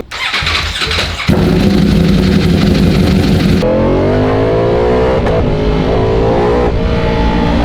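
A Ducati V4 motorcycle engine runs loud and close: a rough start, then a steady throbbing idle with a deep, lumpy pulse that holds without revving.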